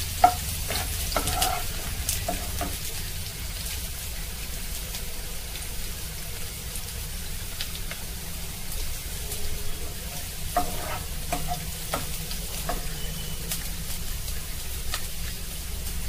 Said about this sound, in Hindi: अदरक हल्का सा फ्राई करना है।